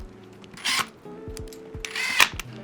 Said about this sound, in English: the next step is going to be screwing back all the screws on the deck.